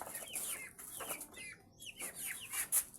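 Dekalb Brown and Rhode Island Red chickens cluck and squawk repeatedly at a farm pen, several overlapping calls at moderate distance without speech.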